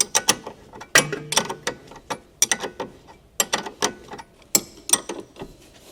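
A 17mm wrench ratchets rapidly while tightening the upper control arm bolts on a 2007 Honda CR-V, a quick series of sharp clicking bursts separated by short pauses, close and fairly loud.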